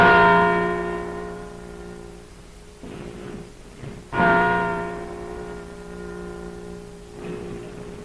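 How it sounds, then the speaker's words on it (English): A replica of the Liberty Bell at Independence Hall tolls in a 1929 celebration broadcast: two loud, resonant strikes with long humming decays, separated by a few seconds of softer crowd noise. "listen to the replica of the Liberty Bell as it tells the world that Edison's light has been born anew"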